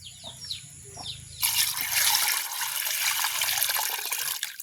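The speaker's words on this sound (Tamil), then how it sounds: "இனி இதை கழுவுவோம் தண்ணி விட்டு" Running water from a tap pours steadily over shelled prawns being washed in a kitchen, a loud continuous splashing rush that starts abruptly after a few faint clicks and carries on to the end.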